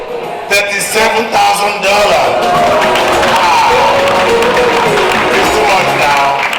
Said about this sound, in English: So clap for yourself for that.